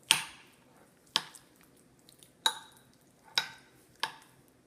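An avocado and olive oil face mask being mixed by hand, five separate wet squishing taps spaced about a second apart, close and quiet against near silence.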